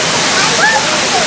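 Constant rushing roar of a waterfall in a rainforest exhibit at the National Aquarium in Baltimore, loud and close, with a faint tonal sweep mixed in.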